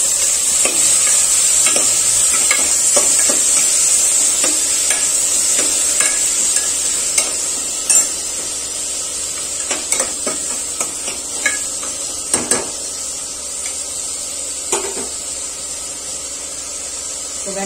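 Onion and green tomato sauté in a hot pan, giving a continuous sizzle with scattered sharp clicks and knocks from a spoon stirring against the metal, close and fairly loud with no speech.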